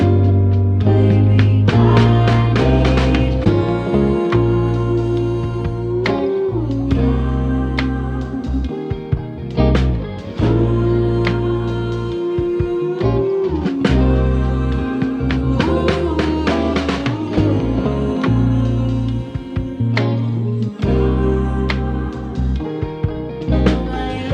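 A dense, layered synthesized choir sings a melody together in a vintage soul style over heavy bass and drums, loud and full, with a polished, processed sound.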